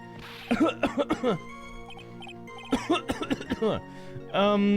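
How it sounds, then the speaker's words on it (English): Two bursts of exaggerated, staged coughing in an Ace Attorney video game, each a rapid string of hacking coughs, ending with a drawn-out throaty vocal sound. "could that stupid cough possibly sound any phonier?"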